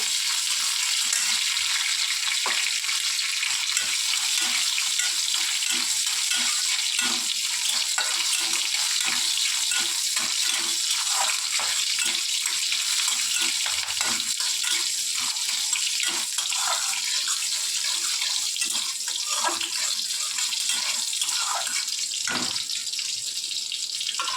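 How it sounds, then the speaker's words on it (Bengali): Chillies frying in hot oil for a lentil dal, a steady bright sizzle hissing continuously close by with small pops and crackles scattered through. "এখানে লঙ্কাগুলোকে ভালো করে ভেজে নেওয়া হচ্ছে।"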